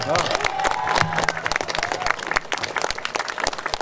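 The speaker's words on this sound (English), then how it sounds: "Give them a round of applause." Crowd applause at an outdoor Vietnamese-American memorial ceremony in Westminster, California, with distinct sharp claps over a murmuring crowd and voices.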